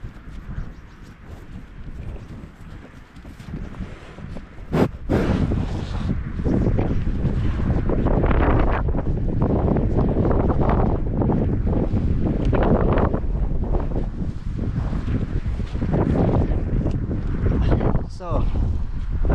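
Gusty wind buffets the microphone outdoors on a farm where apples are being pulped and fed to cows, roaring loudly and continuously with rumbling surges and occasional knocks.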